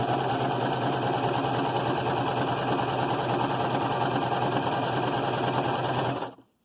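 A sewing machine runs at a steady, continuous whir while stitching fabric for a face mask with ear loops, sounding close and uninterrupted for about six seconds before stopping abruptly.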